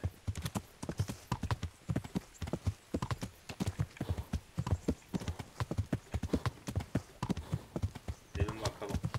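Horse hooves clip-clop steadily in the medieval game Kingdom Come Deliverance, a close, brisk, evenly spaced run of hard strikes lasting the whole stretch.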